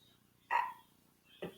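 A dog barks twice, a short sharp bark followed by a second about a second later, fairly faint and slightly distant against quiet room tone.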